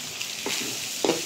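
Hot dogs being stirred into Filipino spaghetti in a pan, a close frying hiss with two short scraping stirs.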